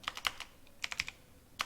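Quick bursts of keystrokes on a computer keyboard as a terminal command is entered, close and fairly quiet, in two short clusters of taps followed by a final keypress.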